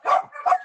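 A dog barking indoors, two close, fairly loud barks in quick succession.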